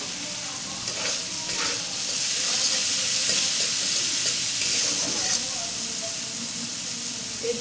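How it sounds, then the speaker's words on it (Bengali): Onion and garlic fry with salt in a pan with a soft steady sizzle, broken by occasional stirring scrapes and clatters at moderate volume. "কারণ পেঁয়াজ রসুনের মধ্যে লবণটা দিয়েই ভাজবো"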